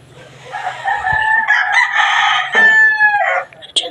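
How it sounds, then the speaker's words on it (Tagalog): Pet chickens with a rooster crowing close and loud, one long drawn-out cock-a-doodle-doo with some clucking around it, heard alone without talk. "Yung mga naririnig po ninyong manok kanina sa akin po yun."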